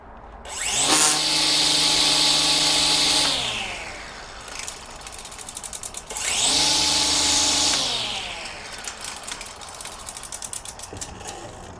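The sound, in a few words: DeWalt 20V Max string trimmer with Echo Speed-Feed head running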